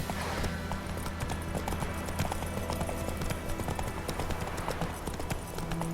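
Horse hooves clip-clop rhythmically in The Witcher 3 video game, a steady, fairly close beat of hoofbeats with a soft low background bed and no clear talk.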